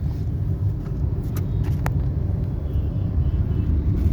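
A car drives on after the shift into third gear, its engine and road rumble a steady low drone close by with a few faint high ticks; no voices.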